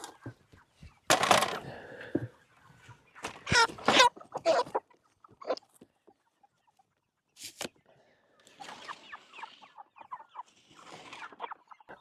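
Chickens clucking and squawking in short, uneven bursts while being wrangled outdoors on a cold farm morning, loud close flurries separated by brief quiet gaps.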